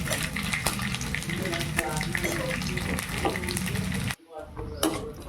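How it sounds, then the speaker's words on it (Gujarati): Sago pearls for nylon sabudana chevda fry in hot oil over a low flame, a dense, continuous crackling sizzle that cuts out abruptly for a moment before resuming. "તમે જોઈ શકો છો સાબુદાણા જેમ જેમ તળાય તેમ તેમ ફૂલે છે"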